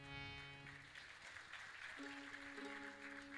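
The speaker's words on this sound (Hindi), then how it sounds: "तालियों की आवाज कम है।" An audience claps at a religious Gau Katha discourse, a soft, steady patter of many hands heard at a distance under sustained harmonium-like music tones.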